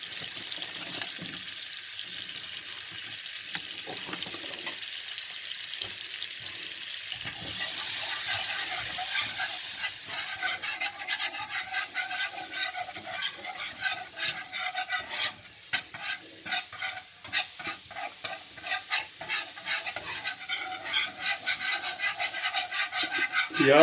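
A spoon stirs a spoonful of flour into about 50 grams of melted butter in a hot pan, giving continuous close scraping strokes over a soft, steady sizzle with no talk.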